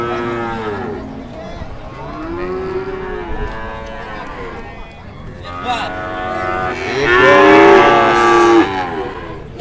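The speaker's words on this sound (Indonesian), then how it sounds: "Ini sapinya guys, sapi betina murah meriah super super" At a cattle market, female cows moo loudly and close by, three or four long drawn-out calls in a row, the last and strongest near the end, with faint crowd murmur beneath.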